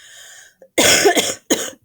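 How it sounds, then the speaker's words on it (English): A few sharp, close coughs from a person with a cold, in quick succession, the last two short and separated by brief pauses, after a moment of faint background hum. "just don't mind me as I cough through this"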